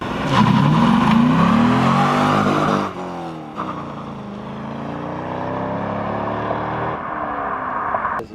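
A C5 Corvette drift car engine revs hard, rising and falling through the gears with loud, close acceleration, then settling into a sustained drone before a final surge.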